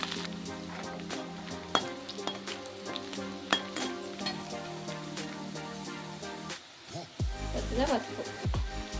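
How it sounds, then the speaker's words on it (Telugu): Chopped onions with green chillies and curry leaves sizzle in a pan, with occasional clinks of a spoon against metal as they are stirred, close and steady. "ఈ ఉల్లిపాయ ఎర్రగా వచ్చేదాకా ఫ్రై చేసుకోవాలి."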